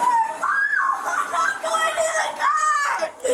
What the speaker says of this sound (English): Stop all that screaming.